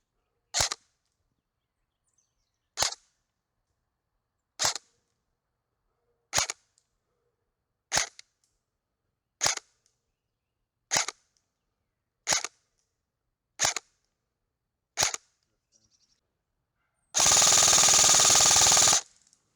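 An ASG Hera Arms CQR airsoft rifle fires ten sharp, evenly spaced single shots over a chronograph, each a crisp isolated crack, followed by a brief loud burst of noise at the end.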